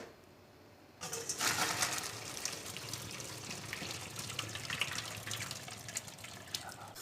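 Cooked homemade pasta, boiled about five minutes, is drained, and its hot water pours out in a steady, loud rush that starts suddenly after a second of quiet and runs to the end.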